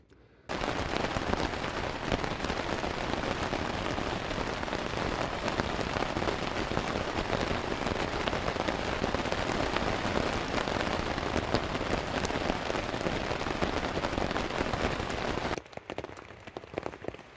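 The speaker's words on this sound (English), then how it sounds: "I'm sure you can probably hear that it is raining." Steady, dense rain patters on a camping tent for the whole stretch, a close continuous hiss of drops on the fabric that cuts off near the end.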